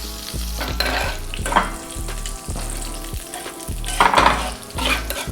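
Garlic, annatto seeds and a bay leaf fry gently in oil over low heat, a steady close sizzle running throughout with a few louder bursts, behind a low repeating tonal hum and no talk.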